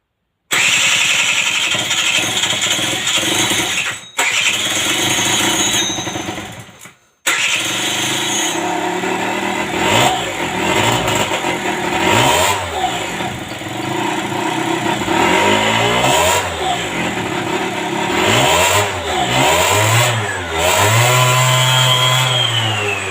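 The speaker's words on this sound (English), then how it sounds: "There's still no coolant system completed, so cannot run it for long, but it should fire up." An Aprilia Scarabeo Ditech scooter engine, being converted from air to water cooling, cranks and fires up, then idles and revs in repeated rising and falling bursts, loud and close with brief cut-outs between attempts.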